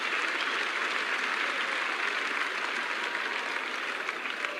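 A cricket crowd applauding Greg Chappell's hook shot during a 1981 Pakistan versus Australia match, a steady, dense wash of clapping that holds at an even level for the whole stretch.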